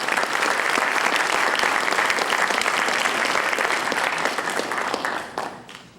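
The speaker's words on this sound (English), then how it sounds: "we'll give them a round of applause." Audience applause for judges standing at a civil rights lecture series event, a dense sustained clapping from a full room that holds steady, then thins and fades toward the end.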